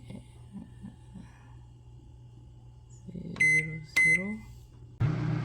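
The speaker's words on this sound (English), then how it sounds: "While the fresh peanuts are running in the microwave for cooking" A microwave oven cooking fresh peanuts gives a steady low hum, with a few soft taps at the start and two sharp electronic beeps near the end before the hum resumes.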